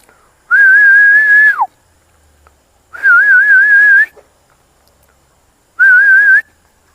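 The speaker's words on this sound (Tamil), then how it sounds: "ஒரு விசில் ஊதணும் அப்படின்னா நாய் ரெண்டுமே வந்து வந்துடுங்க" Three loud, sustained whistled notes, each about a second long with pauses between, from a person calling two native village dogs at night at a poultry farm. No one talks.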